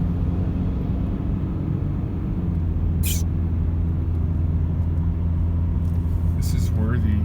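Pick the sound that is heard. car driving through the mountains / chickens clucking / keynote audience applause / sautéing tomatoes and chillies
car driving through the mountains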